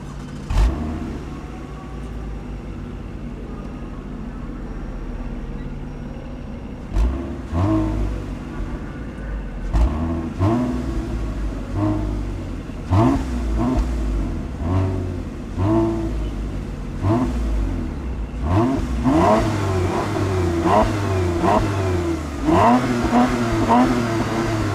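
A 2020 Toyota Camry TRD with its factory catback tuned exhaust revs repeatedly, sharp throttle blips rising and falling over a steady idle rumble, growing busier and more aggressive toward the end.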